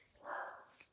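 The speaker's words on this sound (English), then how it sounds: "my dog's barking like crazy" A dog barks once in the background during an indoor talking session, a short muffled yelp that rises and fades within a second.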